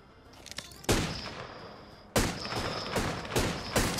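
Gunfire in the video game Apex Legends, a few faint pops followed by two loud sharp bursts of rapid shots with ringing tails, close and punchy, with a quick volley of further reports trailing off.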